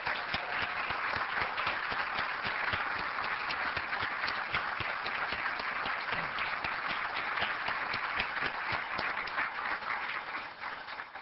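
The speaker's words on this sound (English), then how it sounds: "So can I please have another round of applause for him?" Applause from an audience at a healthcare system's annual meeting, a dense, steady wash of many hands clapping that fills the hall for about eleven seconds before tapering slightly at the end.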